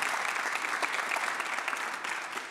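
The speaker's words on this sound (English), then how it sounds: "Give yourselves a round of applause for just being present today." Steady audience applause fills a church service hall on an MLK Sunday morning, dense and sustained clapping throughout with no talking over it.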